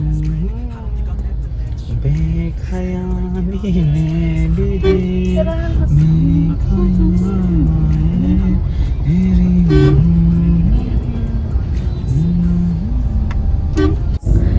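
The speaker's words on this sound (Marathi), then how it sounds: "खूप ट्रॅफिक आहे" Busy road traffic with engines rumbling and several car horns tooting on and off, close by, under a steady background din.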